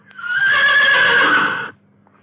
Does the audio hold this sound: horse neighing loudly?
yes